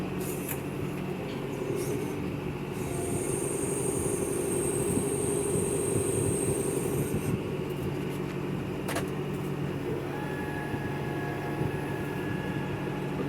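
Brand new John Deere 5100e tractor engine running steadily while loading hay, a continuous mid-distance drone with a faint high whine and no break in level.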